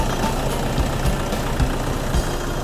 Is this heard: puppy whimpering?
no